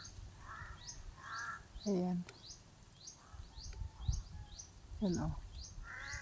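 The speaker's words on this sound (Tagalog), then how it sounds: "Ang ingay ng uwak." Crows cawing outdoors, a series of harsh, repeated calls at moderate distance, with people talking over them at times.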